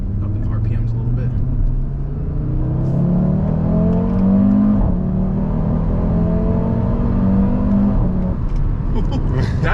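An Audi RS3 five-cylinder engine revs up from inside the car, the pitch climbing smoothly and holding high before easing back, loud and close with a faint whir underneath.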